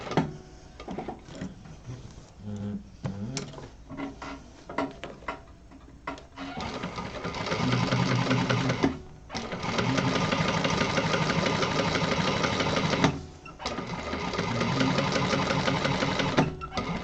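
A domestic sewing machine stitches in short bursts at first, then runs in long steady stretches of rapid mechanical whirring, pausing briefly between seams during a sewing class.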